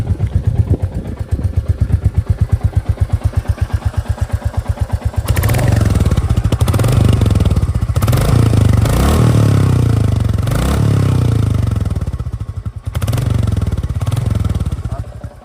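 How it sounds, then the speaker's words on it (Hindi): Royal Enfield Bullet 350 standard with a mud flap fitted, idling in neutral: a loud, close, steady thump of the single-cylinder exhaust, then a few blips of revving that swell and fall back to the rhythmic idle. "अब विद मड फ्लैप का आपको एग्जॉस्ट साउंड सुना देता हूँ एक बार"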